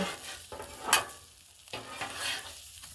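Shrimp fried rice sizzling and being stirred on a Blackstone griddle, a close, continuous frying hiss broken by scraping spatula strokes at irregular intervals, with no talking.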